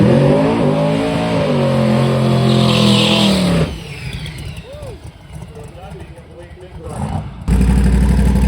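A 3,000+ horsepower Dodge Viper drag race car bellows with a loud, harmonic engine roar, drops to a quieter rumble with voices, then surges back to full volume at the end.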